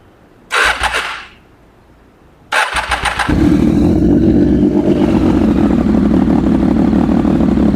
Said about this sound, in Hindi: अब सुनाते हैं आपको ट्रिपल सिलेंडर मोटरसाइकिल की आवाज़